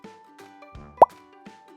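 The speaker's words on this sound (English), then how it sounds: "It's a bubble." A single bubble plop pops out clearly over a soft, gentle musical backing, one short bright burst near the middle of an otherwise quiet, tonal bed with no talking.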